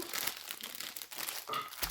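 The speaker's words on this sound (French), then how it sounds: "Désolée pour le bruit du papier." Paper packaging crinkles and rustles continuously while a diamond painting kit is unboxed up close, with crisp crackling bursts and a few sharper tearing accents.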